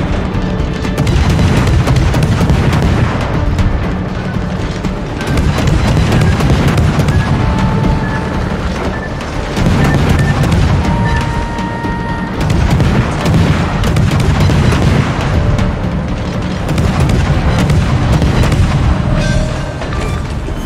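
Naval guns fire and shells explode in a warship video game battle, with heavy repeated booms and blasts rolling continuously and loudly throughout, no talking heard.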